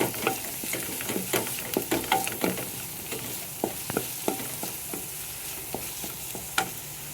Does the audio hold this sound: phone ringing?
no